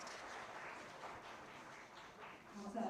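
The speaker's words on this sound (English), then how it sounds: "Another big round of applause, please." A forum audience applauds, a dense spread of clapping heard from a distance at low volume, continuing steadily throughout.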